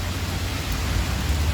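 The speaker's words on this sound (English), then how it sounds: "See the rain on the ground?" Steady rain falling on the ground during a rainstorm, a dense, loud hiss with low rumbling underneath and no talking.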